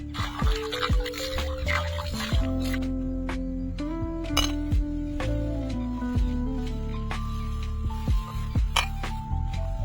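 Pots and dishes being washed at an outdoor campsite give repeated close metallic clinks and clanks with ringing tones, mixed with light splashing and dripping water.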